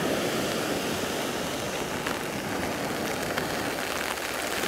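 Rain pours and waves crash on Cleopatra Beach in Alanya during an evening thunderstorm in December, making a dense, constant hiss and wash of water at a moderate level throughout.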